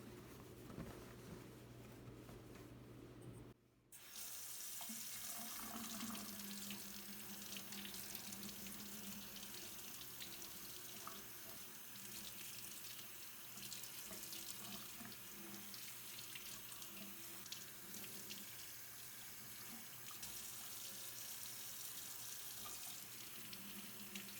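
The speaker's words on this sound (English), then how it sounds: "I wanted to record washing this out." Running water from a tap pours steadily over a sewn early-1800s-style children's corset being washed out in a sink, a loud continuous close splashing rush after a brief pause near the start, with no voices.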